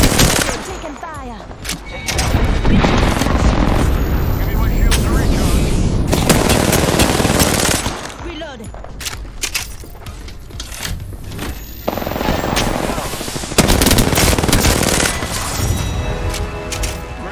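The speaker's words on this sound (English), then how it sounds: "There's an airstrike on our position. Watch out! You're taking fire!" Explosions and rapid gunfire from an airstrike during an Apex Legends PC match, dense bursts of blasts and shots filling most of the span with brief lulls, loud and close throughout.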